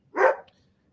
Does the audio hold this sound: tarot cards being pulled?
no